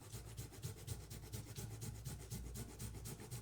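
Onions being grated by hand in a kitchen for Vietnamese pork bowls: a steady, rapid rasping scrape repeating in quick even strokes, close and fairly loud, with no talking.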